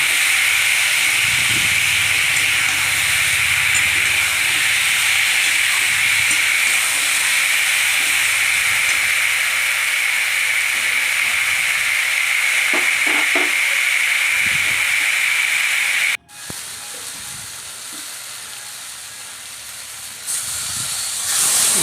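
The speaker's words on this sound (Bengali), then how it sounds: "আলুর টুকরো কলার টুকরো দিয়ে ভালো করে ভেজে নিচ্ছি" Salted, turmeric-coated potato and plantain pieces fry in hot oil, giving a loud, steady hiss and sizzle that drops suddenly after a sharp break and resumes more quietly, with a few light clinks of utensils.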